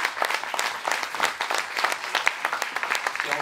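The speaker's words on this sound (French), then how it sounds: "je peux l'applaudir" Audience applause, many hands clapping in a lively, dense rhythm that stays fairly loud throughout.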